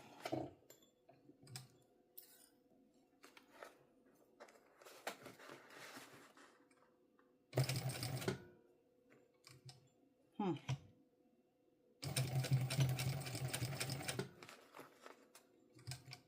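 A sewing machine with a rolling foot runs in two short bursts of fast mechanical stitching over a zipper, separated by quiet stretches with faint clicks and handling noises.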